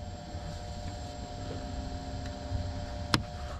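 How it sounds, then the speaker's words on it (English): An auxiliary fuel tank pump runs in a truck used for RV transport, giving a steady, even mechanical hum throughout with one sharp click near the end. "And then I will have the pump run in the background here."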